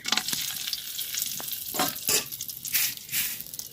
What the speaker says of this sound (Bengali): তেল দিয়ে দিলাম গরম মশলা দিয়ে দিলাম এলাচ দারচিনি তেজপাতা একটা বড় এলাচ দিয়ে দিছি আমি